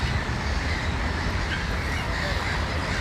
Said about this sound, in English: A lot of seagulls, but that's good.